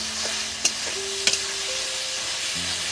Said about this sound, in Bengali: বন্ধুরা এবার দেখুন এই আদাটা দিয়ে দিচ্ছি, দিয়ে একটু নেড়ে চেড়ে নেবো।